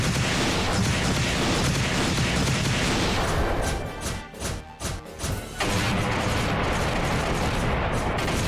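Howitzer artillery in the game Trails in the Sky SC fires in a continuous, loud barrage of booms and crashes, briefly thinning in the middle before the heavy bombardment resumes.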